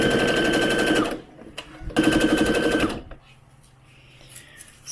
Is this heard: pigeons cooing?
no